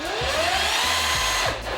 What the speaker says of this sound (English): I had to pull out a slightly bigger tool to go through the concrete block wall